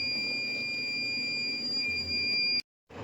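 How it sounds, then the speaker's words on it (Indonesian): An IoT door security buzzer alarm set off by a forced-open door sounds as a continuous shrill electronic tone over room noise, cutting out abruptly near the end before the background returns, with no talk. "buzzer berbunyi dan alarm nyala gitu ya"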